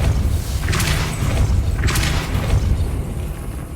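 Casting the Depulso spell in the video game Hogwarts Legacy yields a loud booming blast with a whooshing burst, followed moments later by a second similar thump over a low rumbling background.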